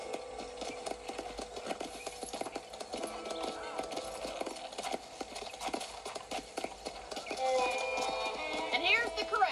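Horses at a ranch corral in the video game Red Dead Redemption clip-clop and whinny near the player, hooves thudding steadily under a continuous game soundtrack, with a louder neigh toward the end.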